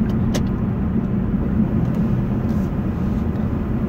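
Steady interior car ride, a constant low road and engine rumble with a smooth, even level throughout, faint higher clicks, no talk.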